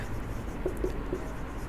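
A maths proof for a Class 9 geometry exercise is written out by hand, with a few short strokes scratching close by over a dull room hum.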